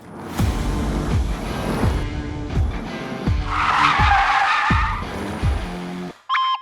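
Car tires skidding and squealing on a road with poor grip, a long loud screech with rising engine noise and repeated thumps, ending abruptly with a short electronic tone.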